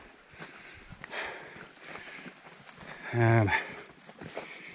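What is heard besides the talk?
free range cows moving on a trail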